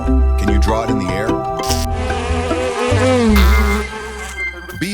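A buzzing insect drones steadily close by, with soft music playing throughout.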